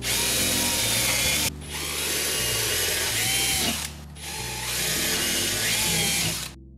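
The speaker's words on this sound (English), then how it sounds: "Then I used a larger drill bit to drill the holes to their final size." A power drill fitted with a larger bit boring holes to final size in wood, two long loud whining runs with a brief pause between them, then stopping abruptly.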